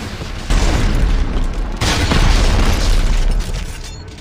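Rocket launcher explosions in the video game Dead Space 3, loud booming blasts with heavy rumbling low end, one burst after another filling the clip, close and dense with no talk over them.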